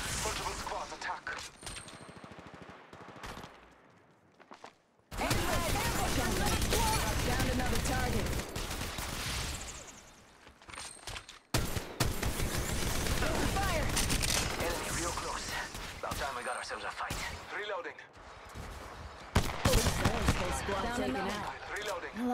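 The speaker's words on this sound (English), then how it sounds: "Shots fired." Rapid gunfire and weapon blasts from the mobile battle royale game Apex Legends Mobile, loud dense bursts in repeated volleys across a multi-squad fight, with brief lulls and in-game voice callouts between.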